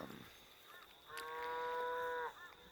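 A single cow moos, a drawn-out low call lasting about a second, heard faintly from a distance in a quiet outdoor setting.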